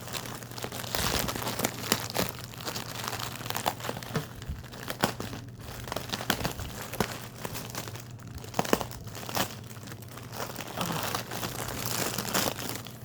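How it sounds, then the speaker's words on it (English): Steady, loud crinkling and crumpling of a package wrapped in a grocery-style plastic bag and heavy packing tape being torn open up close, with constant rustle and occasional sharper rips throughout. "they wrapped it like in a store grocery bag type thing, and then they saturated it with"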